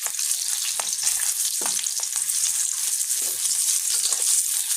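Eggs fry in a hot pan with a busy, crackling sizzle, peppered with small pops and light spatula clicks, close and steady throughout with no talking.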